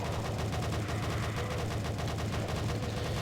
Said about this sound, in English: it seems that this replaces the chain gun and makes it sound a bit more powerful without actually being more powerful